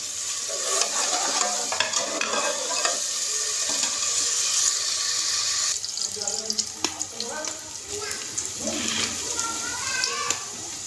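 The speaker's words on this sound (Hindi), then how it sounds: "मैंने घी में डाले हैं प्याज" Onions frying in ghee for matar pulao, with a continuous loud sizzle and crackle and occasional stirring scrapes close by throughout.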